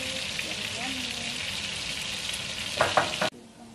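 Vegetables sizzling as they sauté in a hot pan, a steady close frying hiss with a few sharper stirring clatters near the end before it cuts off.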